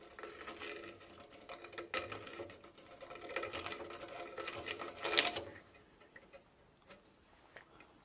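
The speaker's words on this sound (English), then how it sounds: "That took a while, but I finally found my deburring tool." A deburring tool scrapes burrs from a scrapped bicycle part, producing faint rapid clicking and scratching strokes in irregular bursts, close and quiet with no talk.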